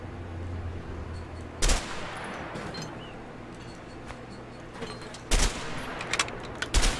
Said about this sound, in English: Try shooting at those empty houses.